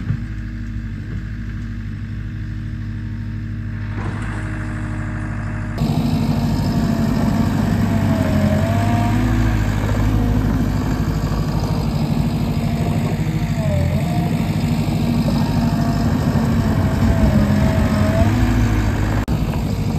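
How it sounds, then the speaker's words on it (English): A Harley motorcycle that steers poorly rumbles through a dirt wallride line, its engine droning low and steady with a louder surge partway through and a faint whine rising and falling above the rumble. "Making the new line for the Harley that doesn't steer that well."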